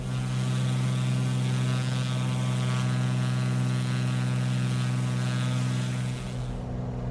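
A Cessna 182 propeller engine in Microsoft Flight Simulator drones steadily at high power through the takeoff roll, a loud, even hum with a strong low tone that barely varies, with no talk.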